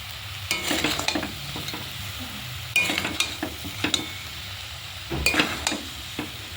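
Spice paste frying with Malabar spinach in a pan, a steady sizzle broken by repeated scraping stirs of a utensil against the pan, close and alone.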